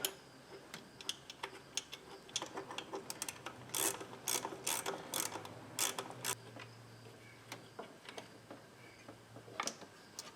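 A ratchet turns a spark plug into a Toyota/Lexus 3.3 L V6 engine with 204,000 miles: steady runs of crisp, close pawl clicks that come in quick bursts, with a few louder strokes near the middle.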